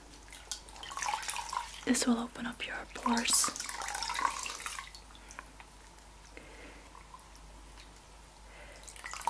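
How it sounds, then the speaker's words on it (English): A dry cloth dipped in hot water and wrung out, giving close, crisp drips and splashes that come in bursts and then trickle off, with soft whispering over parts of it. "take this dry cloth and putting it in hot water,"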